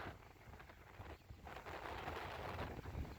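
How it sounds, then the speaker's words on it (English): Wind gusting outdoors through a yard with a blighted pear tree and a fig tree, a steady rushing roar with buffeting rumble against the microphone, swelling stronger after a brief lull. "So you can see that the wind's coming pretty good."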